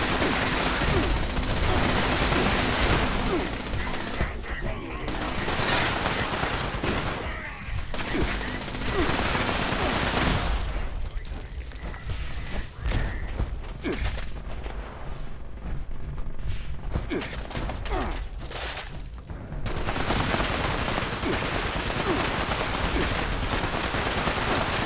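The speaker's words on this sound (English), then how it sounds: "who's shooting me now?" Sustained gunfire in Fallout 76: dense bursts of rapid automatic shots and volleys, loud and close, with brief lulls before heavy firing resumes.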